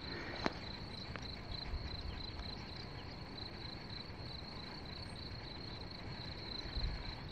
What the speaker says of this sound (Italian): Faccio giusto cantare i grilli.